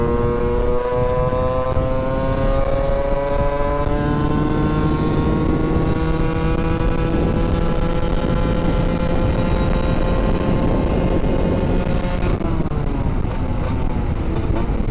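A two-stroke motorcycle engine runs loud and close, its pitch climbing and wavering in an uneven, straining drone before it drops off near the end into a few sputtering pops.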